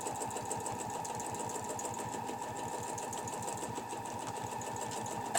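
A sewing machine runs steadily, stitching scroll lines in ruler-guided quilting on a holly and berry design. Its close, continuous rapid whirring hum carries on without pause and without talk.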